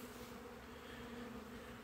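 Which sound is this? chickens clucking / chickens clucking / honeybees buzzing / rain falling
honeybees buzzing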